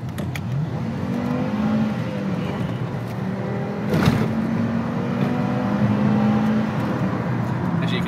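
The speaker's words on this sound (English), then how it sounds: "I'll give you a quick little demonstration on the kick down and acceleration" A Fiat Stilo Abarth kicks down and accelerates hard, the engine note rising through the revs in sweeping climbs with a brief shift-like break midway, loud and close from inside the car.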